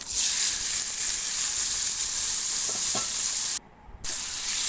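Pork frying and sizzling in a pan with ginger and garlic, a steady loud crackling hiss that continues alone, broken by a brief quiet gap near the end.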